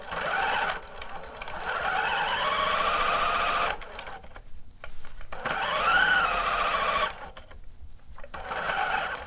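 Sewing machine stitching a bodice shoulder seam toward the neckline, two long whirring runs of stitching with brief pauses between them for back stitches, close and clear without talk.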